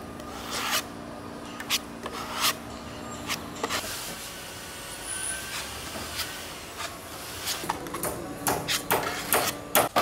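Close rubbing and scraping as a spatula works a thick Cabosil and epoxy resin mix into the seams of a rotten wooden boat stem, with a faint hum and scattered sharper scratches, no talking.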